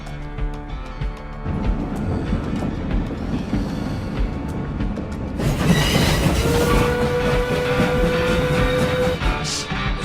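A train carriage in a video game rolls steadily along the rails with a loud, continuous rumble and clatter, growing denser midway, with a sustained wheel squeal near the end.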